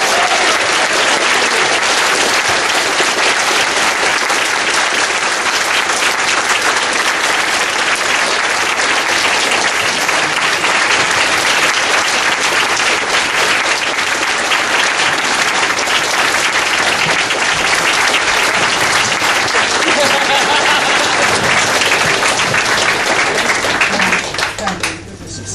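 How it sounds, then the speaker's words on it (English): A large audience breaks into a long, dense round of clapping at a live fan convention, loud and steady throughout before starting to thin at the very end. "this time you do make a massive round of applause for David Warner."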